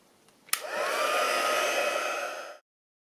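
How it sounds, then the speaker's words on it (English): A small heat gun used on chipboard circles for charm making clicks on and blows a steady, loud, close whooshing roar for about two seconds, then cuts off abruptly into silence. "little heat gun here"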